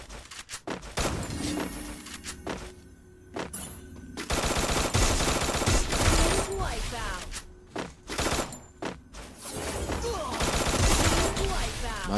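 Rapid bursts of video game gunfire crackle in repeated volleys, with automatic fire and single shots layered over a busy game soundscape, and occasional voices underneath.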